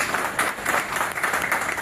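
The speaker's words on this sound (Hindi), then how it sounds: "सब लोग जो है इसके लिए एक बार तालियां बजाएं।" Audience applause at an award ceremony for the Atal SAARC Gaurav Award, a dense steady wash of many hands clapping close by, filling the short moment with no voices.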